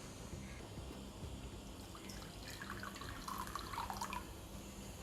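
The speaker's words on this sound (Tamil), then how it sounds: "நல்லா ஒரு அரை கப்புக்கு 1 கப் கிட்டவே தண்ணி விட்டுருக்கேன்" Water poured into a cooking pot holding tamarind, dates and jaggery for chutney, a soft trickling and splashing that builds through the middle, close and fairly quiet, with no talking.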